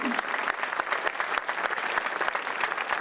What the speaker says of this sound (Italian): Giustamente maestro, un giusto applauso